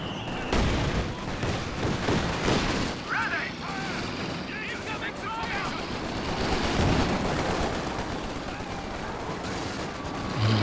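Machine gun fire in the Company of Heroes 2 real-time strategy game: dense, continuous bursts and scattered shots with distant booms of battle, steady throughout, mixed under a commentator's voice.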